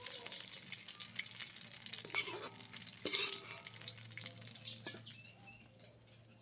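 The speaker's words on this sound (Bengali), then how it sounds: "তো সয়াবিনটা ভাজে নিই।" Soybean pieces sizzle steadily in a frying pan, with soft stirring scrapes and occasional sharper clinks. Faint birdsong can be heard in the background.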